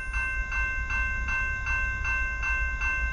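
A CSX westbound freight train rolls past with a steady low rumble and evenly spaced, rhythmic metallic clacks repeating about twice a second.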